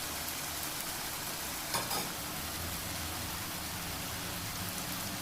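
Beef and broccoli, with tofu, sautéing in a hot pan give a steady, close, even sizzle with no pauses, broken only by a brief scraping knock from stirring or flipping partway through.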